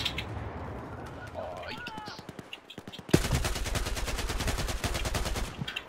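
Rapid bursts of automatic gunfire in Battlefield 4, sparse at first then a dense sustained volley in the second half, with a voice talking underneath and faint bird-like chirps.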